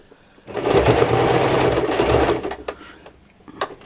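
Sewing machine stitching a patchwork embroidery, whirring steadily for about two seconds close up and then stopping, with a few light clicks afterward.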